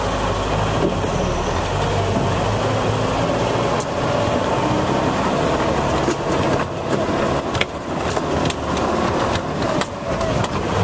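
Diesel off-road vehicles, a diesel Land Rover 110, a diesel G-Wagon and an 88, rumble with a steady loud engine drone, with some wind and knocking noise over it.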